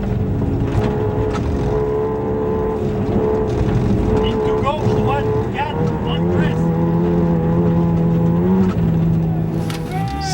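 A 1985 Volkswagen Golf rally car idles and revs at a snowy rally start, its engine holding a steady loud drone with rising pitch sweeps, while a commentator talks over it.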